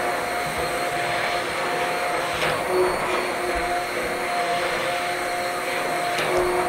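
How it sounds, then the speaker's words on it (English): A blender runs steadily, pureeing celery soup until creamy, giving a continuous loud whirring drone with slight pitch wobble and no pauses throughout, with no voices over it. "You want to puree until it's nice and creamy."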